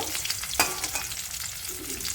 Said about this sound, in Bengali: মাছটা দেখো কত সুন্দরভাবে ভেজে নিয়েছি